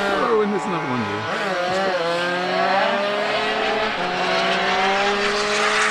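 Small RC model plane engines of about 10cc whine and buzz at high pitch, revving up and down as they race past, with people talking underneath.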